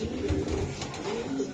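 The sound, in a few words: racing pigeon cooing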